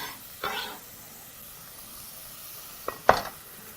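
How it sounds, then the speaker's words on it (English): Tomatoes, onions and garlic sauté in a pan for a kale and chickpea soup. A faint, steady sizzle runs under two brief, sharper stirring scrapes. No one speaks. "Proceed to saute your ingredients once more."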